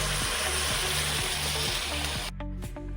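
Tamarind water pours into a raw banana masala curry cooking in a pan, a steady hiss and bubbling sizzle over a low hum that thins out near the end.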